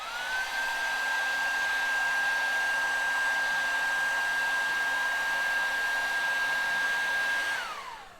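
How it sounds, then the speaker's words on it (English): A heat gun blows a steady, loud whirring hiss while shrinking heat shrink tubing on a rod sock, spinning up at the start and winding down as it switches off near the end. "keep your heat gun pointed up so that heat's not traveling down the whole rod sock and potentially melting it or deforming it"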